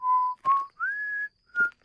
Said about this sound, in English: is that whistling?